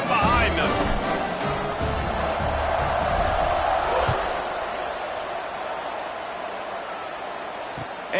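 A large stadium crowd in the College Football 25 video game gives off a steady roar and cheering under a commentator's voice, then eases slightly.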